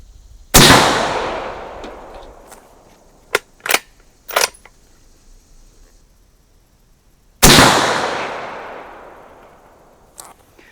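Two sharp, loud rifle shots from a 5.56 bolt-action AR15 with an Aero Precision barrel, fired about seven seconds apart at close range. Each blast rings out with a long fading tail, and a few soft clicks fall between them.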